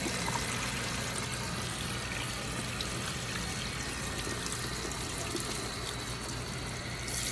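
Steady rush of water from a hose rinsing permed hair in a salon during a wavy perm process, a continuous broad spray with no pauses and no one talking.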